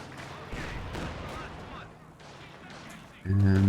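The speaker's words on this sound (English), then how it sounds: "And a barrage" Artillery barrage in Company of Heroes 2: a series of dull impacts and rumbling blasts over battle noise, with a commentator's voice over the shelling and a sharp, loud burst near the end.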